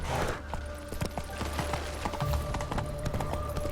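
Roach, the horse in The Witcher video game, gallops in a fast, steady rhythm of close hoofbeats, with faint mechanical clicks mixed in.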